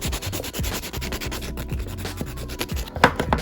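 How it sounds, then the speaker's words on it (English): Steady rapid scratching and rubbing of a buffer block across gel nails during an at-home manicure, close and continuous with rhythmic back-and-forth strokes and no talking. "So I'm buffing them out"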